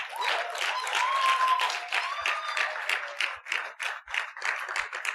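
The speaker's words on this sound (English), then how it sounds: "A round of applause." Audience applause at a drama master class, a steady patter of clapping that is dense at first and then thins to scattered claps, with a few faint voices mixed in.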